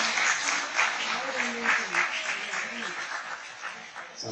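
Clapping from an audience at a Bhagavad Gita discourse, sustained and fairly close, with scattered chuckles and murmured voices mixed into the applause.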